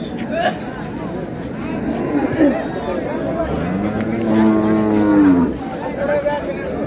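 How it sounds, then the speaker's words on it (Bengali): Dairy cows and calves at a rural cattle market (haat) in Dinajpur, with one long, loud moo rising over a steady hubbub of crowd chatter and voices. "গাভী বাছুর"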